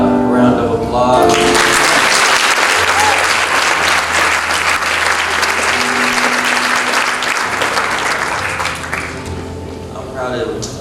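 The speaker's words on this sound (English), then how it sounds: "Let's give our Pathfinders a round of applause" Church congregation claps loudly for Pathfinders, a dense sustained round of applause that swells quickly and fades after about ten seconds, with organ or keyboard notes and voices underneath.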